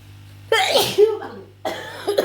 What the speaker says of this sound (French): Voilà, là, je vais éternuer.